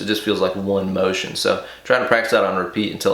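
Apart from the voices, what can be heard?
No everyday noise stands out behind the speech.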